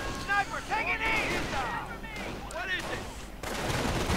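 Machine gun fire from an MG42 in a real-time strategy game battle, heard as bursts of shots under a busy mix of battle noise and sound effects, with speech present in the scene.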